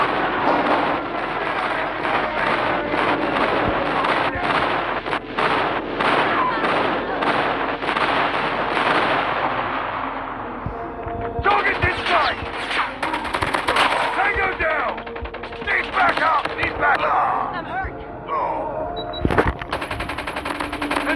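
Dense Call of Duty firefight: rapid machine-gun bursts and heavy explosive blasts from an enemy airstrike roll on continuously and loudly, the barrage thinning briefly before renewed volleys.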